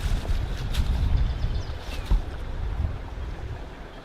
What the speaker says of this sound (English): This here is the creek that is right behind my house.